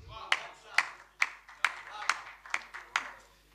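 Sparse, slow clapping comes from a small audience at a Punjabi poetry conference in Lahore, about eight distinct claps spaced roughly half a second apart, fairly close and clear against a quiet room.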